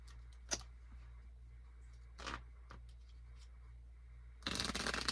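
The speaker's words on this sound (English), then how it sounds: "I actually wanted to pull the compatibility cards today." Tarot-style compatibility cards are handled and shuffled close up: a few soft riffles and taps, then a louder rushing shuffle near the end over a quiet background hum, with no speech.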